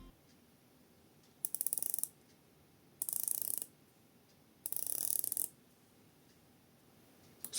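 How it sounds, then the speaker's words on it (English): Three short bursts of fine, rapid clicking as the 120-click unidirectional bezel of a Proxima PX1711 watch is ratcheted round, crisp and close against near silence. "It's a 120 click unidirectional bezel as you would expect, and the action is weighted perfectly"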